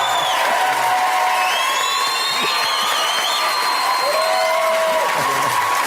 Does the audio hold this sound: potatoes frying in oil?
no